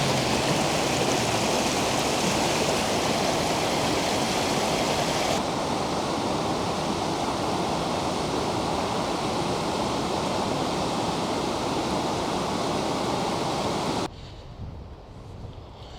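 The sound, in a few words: waterfall in the Swiss Alps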